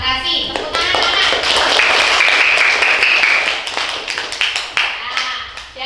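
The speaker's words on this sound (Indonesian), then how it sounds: "Tepuk tangan, anak." A classroom of children claps together in a loud, dense burst of applause that carries on for several seconds, with voices mixed in underneath.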